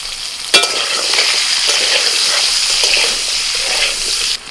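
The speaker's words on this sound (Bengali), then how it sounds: "এবার তেলের মধ্যে আলুটা একটু ভেজে নিচ্ছি হলুদ গুঁড়ো লবণ" Potatoes fry in hot oil with turmeric and salt, making a loud, continuous sizzle. A sharp clink from stirring comes near the start, and the sizzle keeps steady until a sudden drop at the end.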